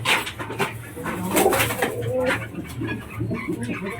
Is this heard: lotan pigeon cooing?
yes